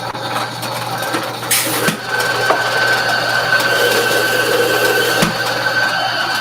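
A coffee grinder grinds beans for Hario V60 brewing at a roastery cafe in Baltimore, a steady, fairly loud gritty whirring crunch that runs through the whole stretch with a brief shift in pitch partway in.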